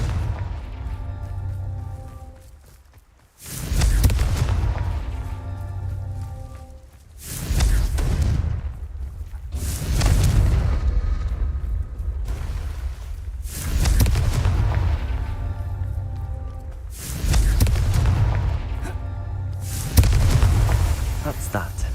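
Confringo fire-spell explosions in Hogwarts Legacy go off as a run of about six loud, booming blasts, each a sharp burst that rumbles away before the next, with faint in-game voices between them.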